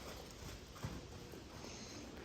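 A horse's hooves clip-clop softly at a distance during a riding lesson on collection, light rhythmic footfalls with one slightly louder thud partway through.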